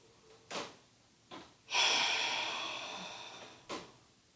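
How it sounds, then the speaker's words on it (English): Ujjayi yoga breaths during a relaxed yoga flow, soft airy inhales and a long drawn-out exhale of about two seconds, followed by another short breath, close and quiet with no talking. "Deep, full breath. One more. Circular breath or Ujjayi breath."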